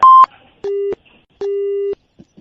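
A telephone busy tone after a call is hung up: three loud, steady electronic beeps separated by short silences, followed by faint clicks.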